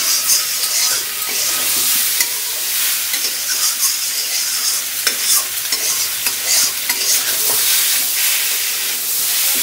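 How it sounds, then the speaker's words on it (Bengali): A masala of ginger, cumin and green chili for a rohu fish and taro curry fries in a pan, a loud, dense, continuous sizzle with constant stirring and scattered scrapes, close up and without speech. "আগে মাংসের মতো আগে কষিয়ে নিচ্ছে।"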